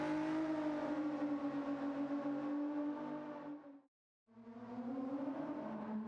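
An engine-swapped 2017 Alpine A110 Première Édition drifting in Gran Turismo 7: a steady, loud engine drone held at high revs, cutting out abruptly for a split second before surging back.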